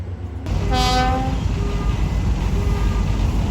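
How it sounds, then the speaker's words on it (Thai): Train J8 arrives at Surat Thani station, its horn sounding one short toot near the start over a loud, steady rumble of rolling wagons. "ขบวนเจแปดกำลังเข้าสุราษฎร์ธานีครับ"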